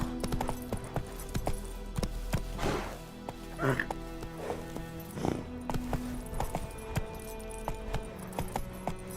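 Roach, the horse from The Witcher 3, trots with a rhythmic clip-clop of hooves and faint jingling of tack, and a voice speaks briefly over it.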